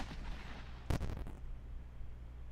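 A 37mm tank gun fires canister shot in the Armoured Commander II video game, one sharp, loud blast with a short rumbling tail over a steady low background hum, no talking.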